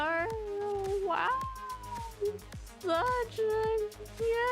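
A cat meows repeatedly in a series of drawn-out, wavering cries, loud and close, with several short rhythmic thumps underneath.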